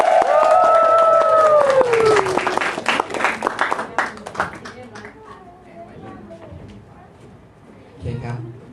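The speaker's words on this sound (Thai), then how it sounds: "ขอเสียงปรบมือดังๆต้อนรับคุณพัฒนาคาอัครบดีอีกครั้ง" Audience applause welcoming a speaker to a presentation, a broad crowd clapping that starts over an announcer's voice and gradually thins out, with talking continuing through and after it.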